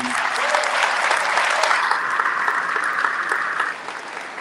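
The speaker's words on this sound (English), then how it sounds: "Mom, you hear your kids clapping?" Large audience at a tribute event clapping loudly and continuously, a thick sustained wash of hands that drops slightly near the end.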